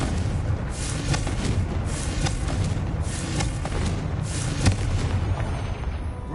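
Fiery spell blasts from a wizard's wand in the Hogwarts Legacy game on PS5, a run of booming bursts over a dense, steady rumble, with one sharper crack near the end.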